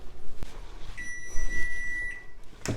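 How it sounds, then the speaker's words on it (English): A kitchen timer goes off during pear and garlic preserve canning with a steam canner, giving one steady, high-pitched electronic beep that holds for over a second, close and clear over faint room noise. "Timer's going off."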